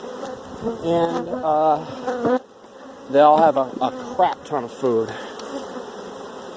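Honey bees from a crowded, swarming hive being split into nucs hum in a continuous buzz beneath someone talking close by.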